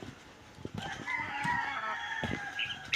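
A rooster crows loudly and drawn-out, with scattered clucks and farmyard noises before and around it.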